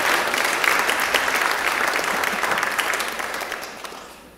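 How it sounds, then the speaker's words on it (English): Church congregation clapping to welcome a baby as a new member, a full burst of applause that holds steady and then fades away toward the end. "Please welcome him with a round of applause."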